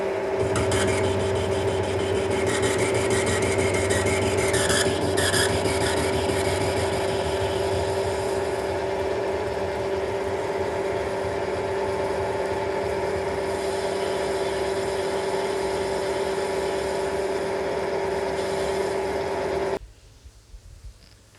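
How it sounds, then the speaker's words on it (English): Lathe machining a slim slot for a retaining clip in a Peugeot part, a steady humming motor tone with a scraping, rubbing cut that is louder at first, runs continuously close up, then stops abruptly near the end. "there's no way I'm going to fit the retaining clip in that slim slot, which is why we have a lathe"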